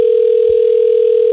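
Telephone dial tone on a call line, a loud, steady single-pitched hum held unbroken throughout with a faint low thump partway through.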